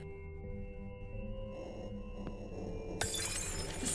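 Glass shatters in the horror game Dear Rebeca, a sudden bright crash bursting out near the end over a low droning, tonal ambience.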